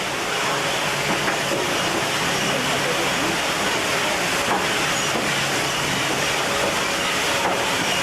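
Water special effect at a studio backlot on a 1990 Disney-MGM Studios tram tour, a steady broadband rushing and splashing hiss that runs loud and continuous throughout, like a nearby waterfall or spray.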